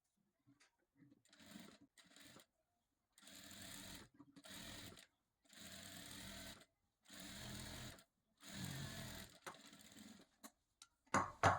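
A sewing machine runs a kinari edge stitch along a sleeve with thread piping, in several separate bursts of rapid stitching broken by short pauses, close by and fairly quiet.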